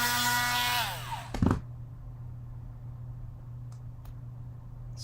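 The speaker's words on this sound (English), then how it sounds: "I'll go ahead and clean this up a little bit more with the drill bit." A power drill with a bit whirs steadily as it cleans up a workpiece, then winds down and stops. A short clatter follows, then quiet room hum with a few faint taps, and no one speaks.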